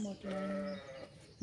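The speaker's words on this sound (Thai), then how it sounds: "บ้านนั้นเขามีแพะ" A goat bleats once, a wavering, nasal cry lasting under a second, fairly close.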